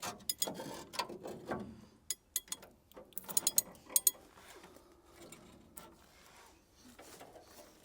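A ratchet works the engine crank of a truck left behind a barn for 30 years, giving several sharp, close metallic clicks and clanks in irregular bursts against a quiet background.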